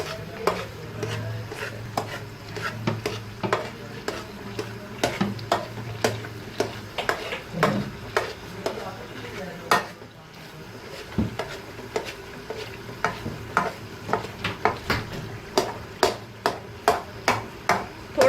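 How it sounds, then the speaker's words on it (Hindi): Spoon scraping and stirring makhandi halwa in a frying pan, a steady run of clinking strokes over a soft sizzle, close and fairly loud, with no voices. "थोड़े पोर्शंस लेके हमने हलवे को साइड पे करना है।"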